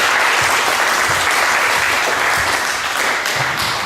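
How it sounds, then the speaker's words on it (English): An audience at a comedy show gives a loud, sustained round of applause for the host, many hands clapping in a thick continuous roar with a few low thumps beneath it. "Give him one more round of applause."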